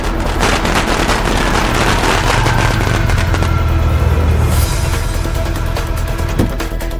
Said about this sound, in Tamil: நான் இவ்ளோ சொல்லியும் யார் வெடி வெடிக்கிறது?